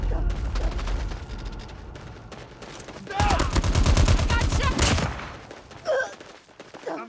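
Gunfire in Call of Duty: Mobile, with rapid automatic bursts rattling throughout, heaviest in a dense loud stretch midway, plus a few later isolated shots and faint voice-like callouts.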